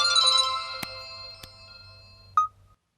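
A mobile phone ringtone plays a short bright melodic phrase, then falls to a quiet sustained tone with two sharp clicks and ends on a brief beep, clear and alone with no talking.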